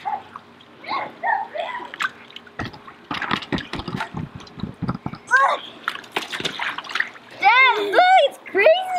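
A child splashes off a slide into a slime bath, with a burst of wet, sloshing impacts in the middle, surrounded by excited voices and squeals.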